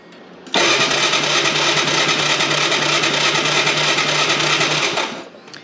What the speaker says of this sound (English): if the electric start works, why not just crank it over with that